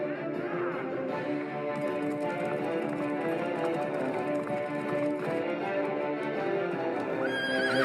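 Several AI-generated horses whinny and neigh over a dense, busy background with hooves and layered sound, continuous and fairly loud throughout.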